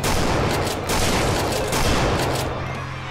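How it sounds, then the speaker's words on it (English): Shotgun fire in a multiplayer video game, a dense continuous barrage of loud gunfire and blasts filling the whole stretch without a break. "Shotgun."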